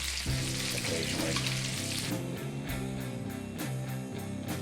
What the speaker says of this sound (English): spoon a bit of this butter over them as they cook occasionally